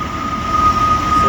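CSX coal train hauled by three GE Evolution locomotives working hard through falling snow on the old B&O mainline, a loud, steady rumble of engines and rolling cars with a sustained high whine running through it.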